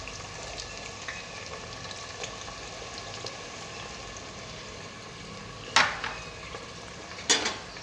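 Onions sizzle softly in a pan for chicken curry, a faint and steady frying hiss with a few light stirring scrapes and two sharp clanks of a utensil against the pan.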